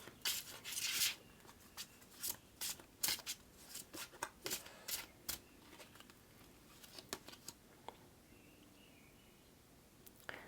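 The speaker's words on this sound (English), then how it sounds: "I'm going to pull one of these cards" Tarot cards are shuffled and drawn in a run of crisp riffling bursts and soft slaps, busy and close at first, then thinning out to scattered faint flicks toward the end.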